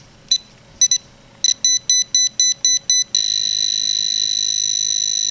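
A Whites TRX metal detector pinpointer gives its alert tone: a series of short, shrill electronic beeps with quickening pulses, then a sustained continuous high-pitched tone, loud and close with no talking.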